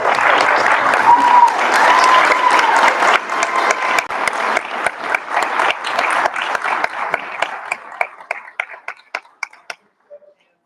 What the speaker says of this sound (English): So let's give this a round of